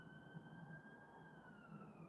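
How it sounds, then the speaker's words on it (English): Emergency vehicle sirens sound outside, a steady wailing tone with a slow pitch sweep, fairly distant and faint under low background noise. "sorry about sirens, guys."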